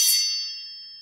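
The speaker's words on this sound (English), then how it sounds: "I came across a sharp katana sound effect." A sharp katana sound effect, a bright metallic ring that starts with a crisp hit and then fades out smoothly over about a second, heard alone.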